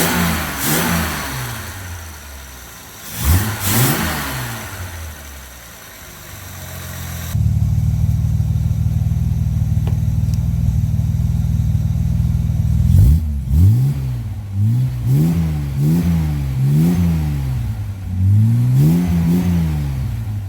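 A Jaguar E-Type engine revs hard in several sharp bursts, rising and falling harmonic sweeps, then settles into a steady loud drone before more rhythmic throttle blips; close up, no talk.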